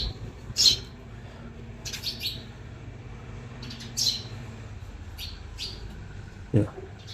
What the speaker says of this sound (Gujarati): ચકલા ચી ચી ચી ચી ચી ચી કરે